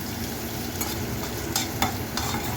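Sliced onion turning pink and finely chopped green chili fry in oil in a pan over a low gas flame, giving a steady close sizzle broken by a few sharp spoon scrapes.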